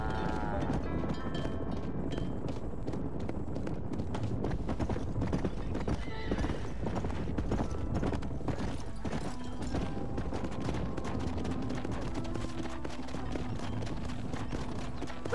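Horses are herded into a pen in the Red Dead Redemption game, with steady clip-clop of many hooves, occasional neighs and whinnies, and voices talking over the busy trampling throughout.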